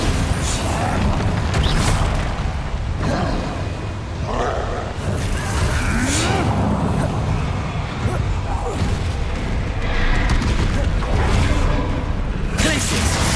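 Explosive spell blasts from the Hogwarts Legacy video game: a dense run of booms and bursts amid busy combat noise, with talk present.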